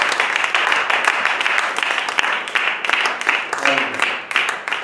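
A church congregation applauds, a dense, steady wash of clapping that holds for several seconds, with a voice rising faintly over it near the end.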